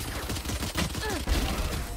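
Gunfire in the Valorant video game, a rapid, dense burst of shots in a busy mix with faint background talk.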